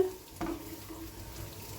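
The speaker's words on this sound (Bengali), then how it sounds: "দিয়ে দেবো এখন আমি গরম জল" Hot water pours into a cooking pot of chickpea and capsicum curry, a faint, brief splash and gurgle close by that settles into a low simmer, with no talking.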